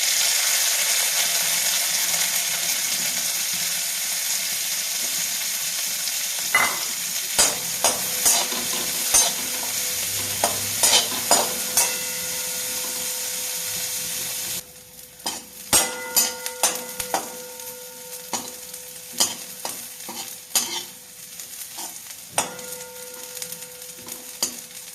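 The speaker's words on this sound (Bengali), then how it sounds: "আমাদের কিশমিশগুলো ঘিয়ের মধ্যে ভাজা হয়ে গেছে।" Raisins frying in ghee in a wok crackle with a strong, steady sizzle at first, then the sizzle drops to a softer bubbling punctuated by sharp scrapes and taps of a stirring utensil.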